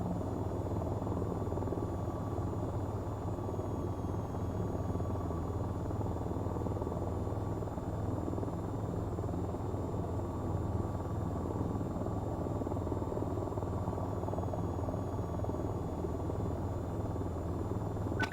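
An AH-94 helicopter in the VTOL VR flight game sets down on a landing pad, its steady rotor drone and engine hum filling the whole stretch at an even, moderate level with no speech.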